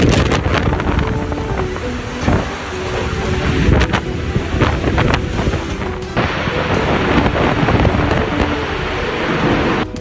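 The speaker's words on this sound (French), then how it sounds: "de fortes rafales de vent" Loud, sustained gusty wind in Lubbock, Texas, roaring and buffeting, with heavy rumbling and crackling bursts throughout and no speech.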